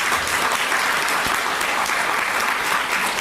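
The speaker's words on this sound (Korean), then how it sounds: "그 감사를 여러분께서 스스로 자축의 박수로 한번 표현해 주시기 바랍니다." An audience at a Democratic Party political gathering claps in a dense, steady burst of applause that fills the room from start to finish.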